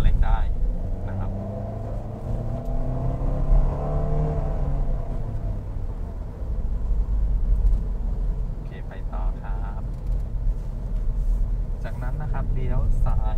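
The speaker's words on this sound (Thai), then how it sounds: "ช่วงนี้นะครับทางตรงก็ทดสอบอัตราเร่งได้นะครับ" A Toyota Veloz MPV accelerating along a straight test road, its engine a steady rumbling drone with rising pitch from inside the cabin, while someone talks over it throughout.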